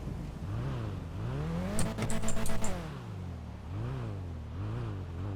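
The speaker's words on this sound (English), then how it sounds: "Can you rev it?" A car engine revs repeatedly up and down in rising-and-falling sweeps, close and fairly loud, with a sharper rattling burst in the middle, and no voices over it.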